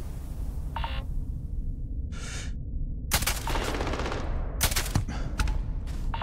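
Several gunshots in the video game Starfield: a short beep-like tone, then a rapid run of sharp, loud shots and a second burst near the end, all over a steady game background.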